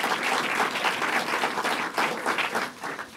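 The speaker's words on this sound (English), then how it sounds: "Let's give him a round of applause." A round of applause from an audience at a policy event, many hands clapping in a full, steady wash for several seconds before starting to thin.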